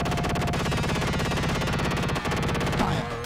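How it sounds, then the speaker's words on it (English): The Vulcan gun in the arcade flight game G-LOC fires as a rapid, loud, continuous mechanical rattle, stopping briefly before the close. "You have missiles and you have your Vulcan gun."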